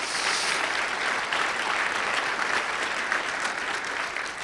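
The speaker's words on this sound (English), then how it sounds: "Can I get a round of applause for all of them," At an energy symposium, a conference audience gives a continuous round of applause to the participants, panelists and speakers, a dense steady clapping that fills the hall with no talk over it.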